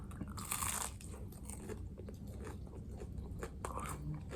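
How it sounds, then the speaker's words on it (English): Someone bites into a crunchy KFC cheesy potato bite, a sharp crunch at the start followed by steady close chewing. "Cheesy potato bite."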